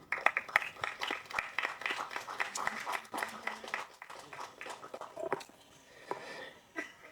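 An audience claps in welcome for Tamil actor M. S. Bhaskar on stage, a dense, steady patter of many hands that rises and falls over several seconds before thinning out toward the end.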